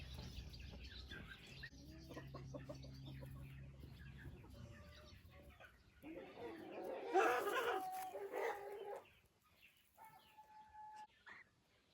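Frizzle chicks chirp and cheep in short high peeps, with an adult hen clucking low at first, all fairly faint and close with some scattered louder squawks midway.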